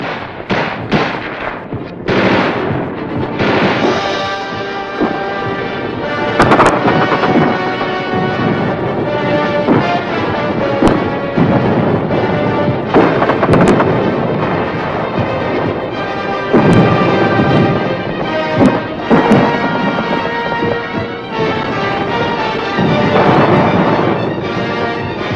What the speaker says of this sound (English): Gunfire roared in the streets